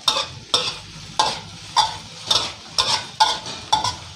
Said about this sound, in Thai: ผัดข้าวไปเรื่อยๆก่อนนะครับ